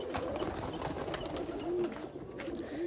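Several Rampuri and Teddy pigeons at a Faisalabad pigeon seller's coo low and softly in steady overlapping calls, with bird chatter over a constant background hum.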